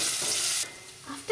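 Garlic and roughly chopped ginger sauté in a pan, giving a short burst of steady sizzle that drops away halfway through, then a few faint scrapes and stirring taps.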